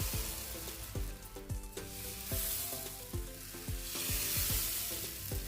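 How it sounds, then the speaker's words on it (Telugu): Dosa batter sizzles and crackles on a well-heated pan, a steady loud frying hiss with repeated sharp crackling pops throughout, no voices. "పేనం బాగా హీట్ ఎక్కిన తర్వాత మనం దోశ వేసుకోవాలి"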